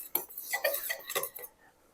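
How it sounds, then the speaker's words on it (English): Butter is worked with a knife in a bowl, giving a quick series of light clinks and scrapes over about a second and a half, close and clear, then trailing off. "So I'm just going to mix this up a little bit with my knife here."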